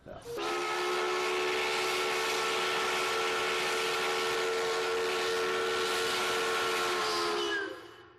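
A historic steam whistle at Tumwater Falls sounds one long, loud, steady blast for about seven seconds, then cuts off, with the signal once marking work shifts for the town.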